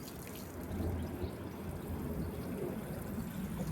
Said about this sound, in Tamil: எல்லாத்துக்கும் தண்ணி விடப்படுது.